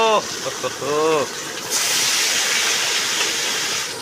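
A voice speaks briefly, then fish frying in a pan at an outdoor picnic sets off a loud, steady sizzling hiss that carries on to the end.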